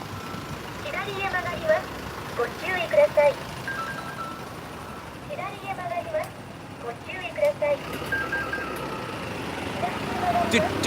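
Truck on a Tokyo street playing its automated spoken turn warning, a synthetic voice and chime repeating in short phrases over traffic hum, with someone talking nearby.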